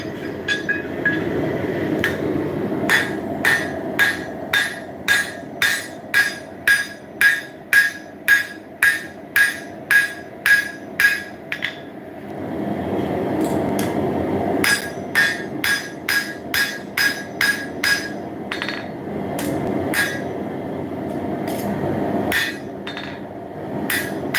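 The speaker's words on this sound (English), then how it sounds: "I'm going to use this to forge a finger weld in to my horseshoe knife." A hammer forging mild steel into a horseshoe knife, loud close metallic strikes in rapid regular bursts of about a dozen blows, pausing briefly between runs, ringing clearly over a low workshop rumble.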